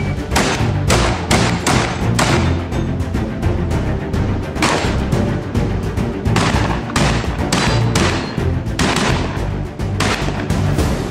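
A rapid series of loud, sharp shotgun blasts at a practical shooting competition, one after another with short gaps, booming close by with no talking.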